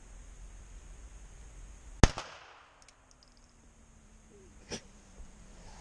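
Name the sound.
gunshot from a sport shooting gun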